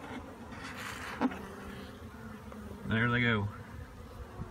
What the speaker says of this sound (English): So I'm gonna let these bees out.